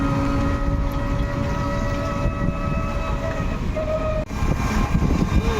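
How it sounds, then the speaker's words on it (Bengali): A loud, steady rumble of a passing train with droning horn-like tones, continuing throughout with a brief dip near the end. "চলে গেল আমাদের ট্রেন।"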